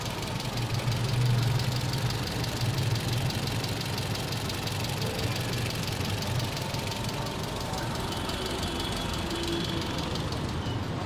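Steady, even rumble of a Tata Zest Revotron car engine with a CNG kit idling nearby, with a faint rhythmic ticking throughout and no other sounds.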